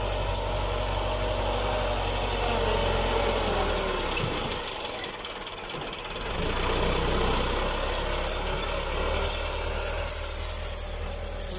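A tractor engine idles steadily in a village in Pakistan, a continuous low rumbling drone close by that dips briefly midway and then resumes, with no talking.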